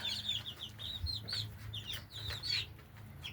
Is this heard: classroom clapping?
no